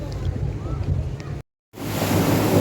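Dam water released during the monsoon rushes down in a heavy, roaring wash mixed with wind buffeting the microphone, broken by a brief dropout before the roar resumes.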